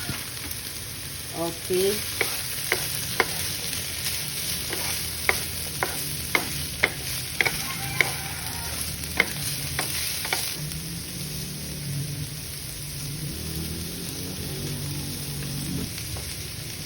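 Chicken pieces hit a hot pan and sizzle loudly, with a utensil scraping and clacking in a quick run of stirring strokes before the frying settles into a softer hiss; a voice speaks briefly.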